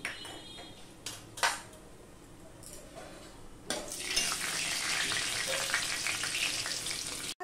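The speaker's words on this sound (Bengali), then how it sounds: "আমি 5 ফোড়ন দিয়ে দিচ্ছি" Panch phoron five-spice seeds frying in hot oil: a few light clinks and soft sizzles, then a sudden, steadily bright crackling hiss as the seeds pop, with no voices.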